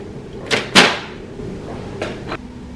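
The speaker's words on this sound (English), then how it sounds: "Take note of the pin and close the cartridge access door." An HP Color LaserJet Pro MFP printer's cartridge access door is handled, giving a couple of quick plastic clunks followed by two lighter clicks, close by in a quiet room.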